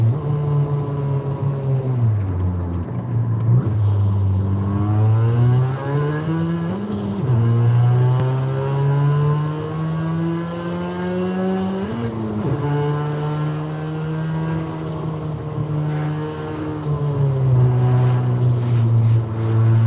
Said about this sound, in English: Very faint turbo noise from this thing